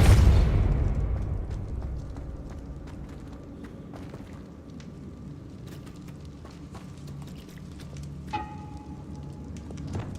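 A Depulso spell cast in Hogwarts Legacy opens with a heavy, close blast that rumbles and fades over several seconds, leaving scattered clicks, ticks and a brief ringing tone, with no talking.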